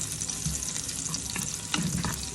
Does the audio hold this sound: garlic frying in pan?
yes